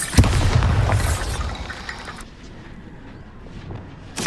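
A Bombarda spell detonates in Hogwarts Legacy with a loud, sharp blast that rumbles and fades over a couple of seconds, leaving a low hiss before another burst hits at the very end.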